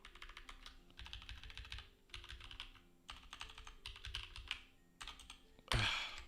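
Quick bursts of typing on a computer keyboard, clustered clattering keystrokes in short runs with brief pauses between them, close and fairly quiet, ending in one sharper thump.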